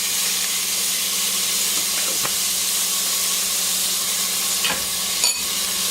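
Spoonful of minced garlic sizzling in hot oil in a soup pot, a steady close hiss with a few faint clinks and stirs, no talking.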